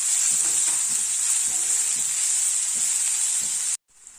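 Manathakkali greens sautéing in hot oil with chillies and tamarind, a steady bright sizzle with soft stirring scrapes, loud and close, cutting off abruptly near the end.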